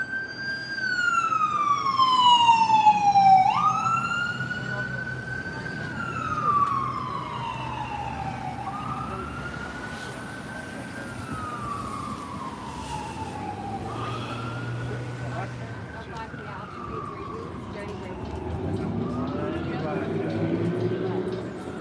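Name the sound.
emergency vehicle sirens in city street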